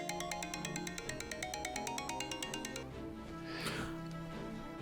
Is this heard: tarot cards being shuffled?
no